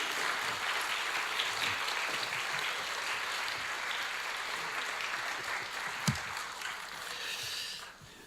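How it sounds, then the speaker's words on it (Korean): Warm, steady applause from a church congregation welcoming a guest pastor to a spiritual retreat, a fairly soft, even clatter of many hands that tapers off at the end. "뜨거운 박수로 이렇게 환영해 주시겠습니다."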